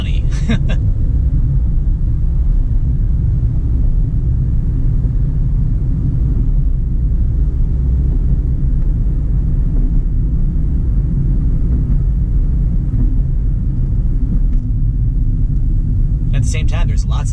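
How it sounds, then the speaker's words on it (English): Heavy road traffic in West Houston gives a continuous low rumble of passing vehicles, dense and steady throughout with no talk. "Same time, there's lots and lots of traffic"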